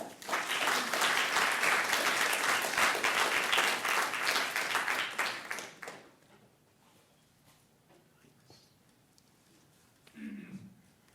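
Audience applause welcoming a lecturer onto the stage at a talk, dense and sustained for about six seconds before fading into quiet room noise with a brief faint rustle near the end.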